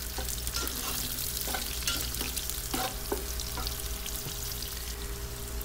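Chopped garlic hits hot oil with frying onions in a pan while cooking Arabian kabsa, giving a steady, close sizzle with a few brief stirring clatters and no talk.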